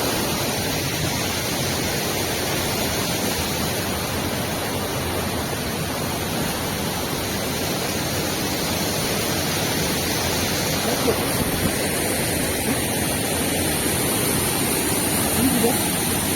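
A waterfall pours with a steady, dense roar of rushing water, loud and unbroken for the whole stretch.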